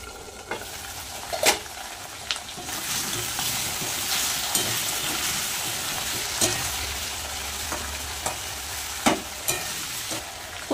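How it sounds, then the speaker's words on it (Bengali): Taro and potato frying in a pan, a continuous moderate sizzle with scattered sharp crackles and spatters, no voices. "কচু আর আলু কিন্তু ভাজা হয়ে গেছে।"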